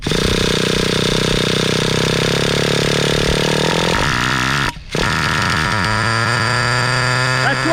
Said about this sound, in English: So the motor is idling very good.